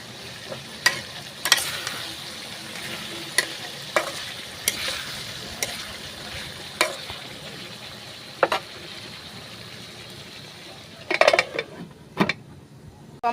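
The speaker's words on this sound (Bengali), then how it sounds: "এটি আমি সব একসাথে ভাজা ভাজা করে নিব।" Onions, ginger and garlic fry in a pan, a quiet steady sizzle punctuated by repeated sharp clacks and scrapes of a spatula stirring, with a cluster of quick clatters near the end, no voices.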